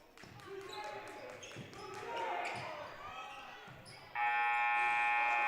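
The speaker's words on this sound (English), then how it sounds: "Buzzer beater no good for Cam Rosas, and that's the end of the third." A long, loud electronic buzzer ends the third quarter of a varsity men's basketball game, blaring for over a second after busy arena crowd noise and a commentator's voice.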